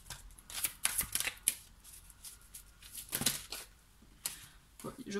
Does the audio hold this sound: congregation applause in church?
no